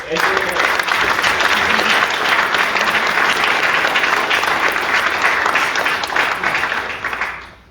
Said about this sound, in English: let's give one big, another round of applause for our panelists